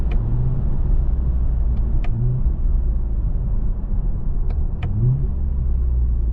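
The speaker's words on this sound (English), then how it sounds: "Nice shifts on the way up." A 2024 Toyota Camry TRD pulls away under steady acceleration, its engine a continuous close rumble that rises in pitch, drops briefly at each of a few gear shifts, then climbs again, with no talk over it.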